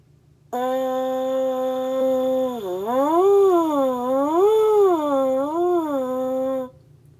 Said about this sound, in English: you can just go on a straight tone or do sirens